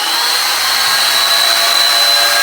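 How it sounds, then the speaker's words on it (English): A wet tile saw used as a grinder wheel on tile, a loud steady high-pitched whine with an abrasive hiss, running continuously and close with no talk. "You can just kind of use it as a grinder wheel."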